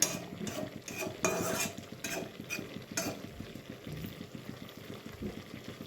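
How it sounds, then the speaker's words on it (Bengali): Coriander leaves are gently stirred into a dry mixed-vegetable and small-fish chorchori, with a spoon scraping and clinking against the pan in a steady close rhythm. "ধনে পাতাগুলিও আলতোভাবে মিশিয়ে দিচ্ছি এই সবজিটাতে"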